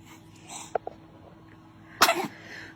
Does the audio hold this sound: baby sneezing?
yes